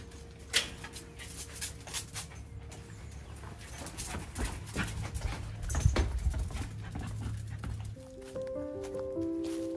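Dogs whimper and pant before a morning walk outdoors, with scattered yelps and shuffling near at hand and a steady background hum.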